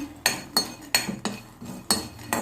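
Rhythmic scraping and rattling as a spoon stirs dry peanuts around an oil-free pan, about six quick strokes in a row, close and fairly loud.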